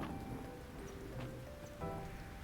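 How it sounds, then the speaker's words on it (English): Soft, steady patter of rain in the video game Fields of Mistria, fairly faint and continuous, with a few faint tonal sounds in the background. "It's odd that it's raining so much."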